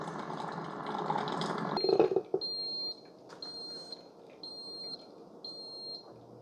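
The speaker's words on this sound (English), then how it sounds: "it looks like you get about 4 or 5 beeps towards the end. The beeps aren't really loud." A Ninja CFP201 DualBrew 12-cup coffee maker finishes brewing, first with gurgling, hissing pump noise and then four soft, evenly spaced electronic beeps, quiet and close by.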